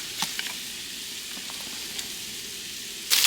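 Garlic, about three cloves, frying in a pan, a steady soft sizzle with a few crackles and a louder surge of hiss at the end, close and without talk.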